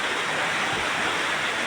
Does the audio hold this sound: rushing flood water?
yes